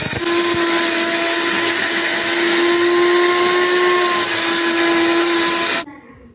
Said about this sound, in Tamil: நான் இங்கே வீட்டிலே அரைக்க போகிறேன்